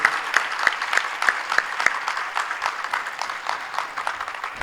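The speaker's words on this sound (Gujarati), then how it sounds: "એમને બધાને એકવાર જોરદાર તાળીઓથી આપણે વધાવીશું" At a Chandrayaan-3 celebration gathering in America, an audience claps for Indian scientists, a dense, steady burst of applause that starts strong and gradually thins.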